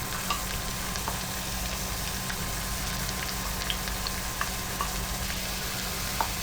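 Chopped onion sizzles in a pan over medium heat for a cottage pie base, a steady close frying hiss dotted with small crackles and faint stirring, with no talking.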